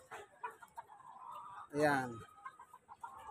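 A single loud, harmonic call from a 45-day-old chick in a neighborhood in Balut, Tondo, rises briefly in the middle while people talk nearby.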